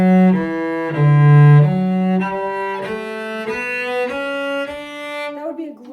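Solo cello playing the opening measures of a fiddle jig, with clear bowed notes in a lilting rhythm, close and loud, ending in a short scrape.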